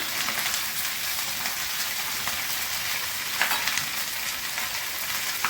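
Ginger and a large chopped onion frying in hot oil give a steady, even sizzle with faint crackles throughout, close and alone.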